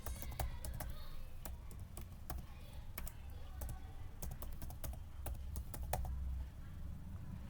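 Someone types a name and email address on a computer keyboard, producing a steady stream of close, sharp key clicks in uneven bursts over several seconds against a quiet background.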